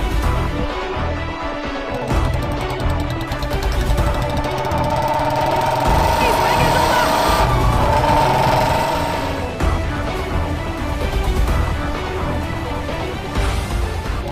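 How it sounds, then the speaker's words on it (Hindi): A motorbike engine runs continuously while being ridden, a loud, close, rough knocking rumble that swells in the middle and then settles back to a steady drone. "अरे अवंतिका, बाइक थोड़ा धीरे चलाओ"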